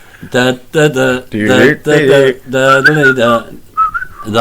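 A person whistles a lively tune in short, clear phrases, loud and close, with brief pauses between notes.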